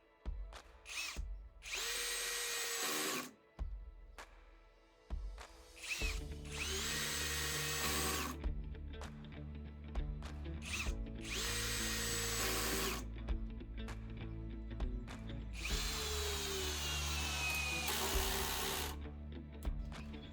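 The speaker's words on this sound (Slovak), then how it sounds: "Mechanická spojka je dostatočne citlivá na malé skrutky a dostatočne silná na skrutku 8x100 mm." A Narex CSP 12-2 Basic Camouflage 75 Nm cordless hammer drill drives screws, up to 8x100 mm, with a low clutch setting, in repeated loud whirring bursts of a few seconds each, broken by short pauses and brief stop-start pulses.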